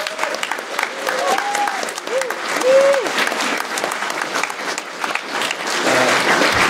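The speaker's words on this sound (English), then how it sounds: "If you could give them a round of applause." Applause for the artists at a committee's closing remarks fills the room, steady clapping from a crowd with a few voices talking over it early on.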